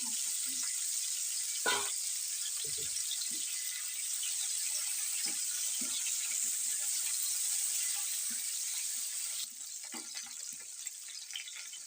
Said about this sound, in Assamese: একেটা কেৰাহীতে মই কেপচিকাম, পাতখিনি আৰু বিলাহীখিনি অলপ ফ্ৰাই কৰি দিম।